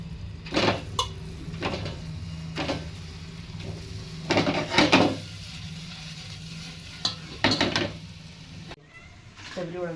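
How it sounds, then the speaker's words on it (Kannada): Oil heating in a pan to start a gravy for a home Ramzan iftar meal, a soft steady sizzle broken by several short scraping stir strokes, with a voice talking intermittently over it. "ಇವಾಗ ನೆಕ್ಸ್ಟ್ ಗ್ರೇವಿ ಮಾಡ್ಕೊಳಕ್ಕೆ ಎಣ್ಣೆ ಬಿಸಿ ಮಾಡ್ಕೊಳತ್ತಾರ"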